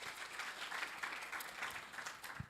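Audience applause at a pitch competition finals, a dense steady wash of many hands clapping throughout, fairly faint and distant, without speech.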